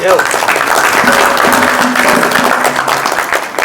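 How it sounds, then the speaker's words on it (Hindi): A devotional bhajan audience claps to welcome the singers, a dense, steady wash of applause heard under someone speaking over a microphone. "जोरदार तालियों के साथ स्वागत"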